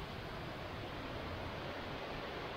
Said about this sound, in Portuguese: Agora nós chegamos perto da cachoeira aqui.